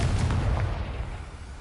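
A blasting spell called Confringo goes off in a wizarding video game, a single deep booming explosion with a heavy low rumble that swells at once and then slowly dies away.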